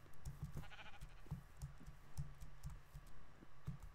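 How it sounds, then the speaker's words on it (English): Sheep bleat in the Minecraft video game, one brief call standing out among quiet, rapid computer keyboard typing and clicking. "Oh my god, sheep, calm down."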